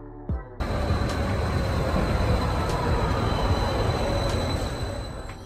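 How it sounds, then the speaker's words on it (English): A metro train rolls past close by with a loud, steady rumble and hiss of wheels on rail. It starts abruptly after a brief quiet moment and continues unbroken, with no voices. "Metro train."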